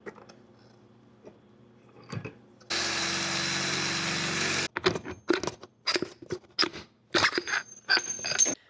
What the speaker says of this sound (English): I am actually going to drill this out